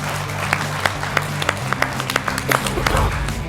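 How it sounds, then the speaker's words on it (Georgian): A studio audience claps for a contestant on a Georgian comedy game show: dense, sustained applause with sharp individual claps and a low musical hum underneath, fairly close and loud throughout. "მაშინ დამსახურებული აპლოდისმენტები გავაცილოთ."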